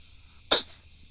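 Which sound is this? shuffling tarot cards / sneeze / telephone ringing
sneeze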